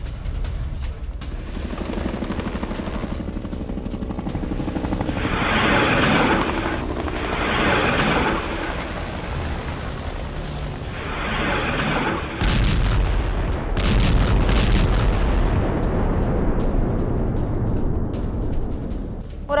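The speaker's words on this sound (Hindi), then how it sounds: "डोनेट्स्क में रूसी हेलीकॉप्टर की स्ट्राइक, जहां यूक्रेनी कमांड पोस्ट को किया गया तबाह।" Russian helicopter strike on a Ukrainian command post in Donetsk: a continuous helicopter rotor drone runs throughout, overlaid by repeated loud bursts and booms of rockets or gunfire, with a heavier blast cluster in the second half.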